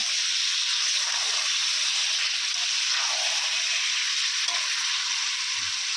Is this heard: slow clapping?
no